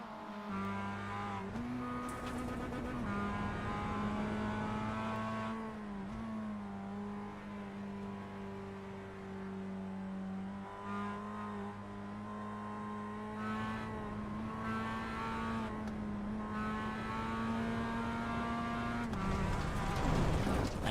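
Onboard engine of a Mazda MX-5 Cup race car in the iRacing video game, a steady buzzing drone rising and falling through gear changes and throttle lifts, close and continuous with no talk.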